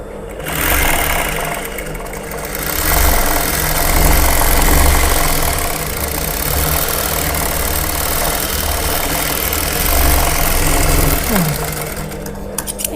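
A tailor's sewing machine stitches a lining joint on a dress, running in a steady close mechanical whir with brief pauses and restarts.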